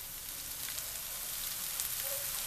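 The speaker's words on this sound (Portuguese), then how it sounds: "Agora vamos refogar essa carne de sol" Sun-dried beef, carne de sol, sautéing in a pan, giving a steady, even sizzle with fine crackle that holds at moderate loudness throughout, no voices.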